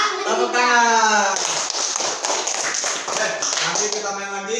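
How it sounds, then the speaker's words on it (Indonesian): Schoolchildren in a fifth-grade classroom clap their hands together in a quick, dense flurry of sharp claps, with children's voices heard before and after the clapping. "Tepuk tangan."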